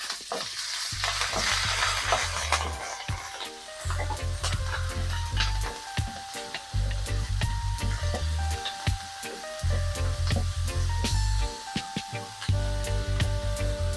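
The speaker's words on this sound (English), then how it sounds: "Once the butter has melted, we will add the asparagus gently and saute it." Asparagus sautéing in melted butter in a pan used for caramelizing onions gives a steady, close crackling sizzle with occasional stirring scrapes, running unbroken for the whole stretch over a low musical backing, with no voices.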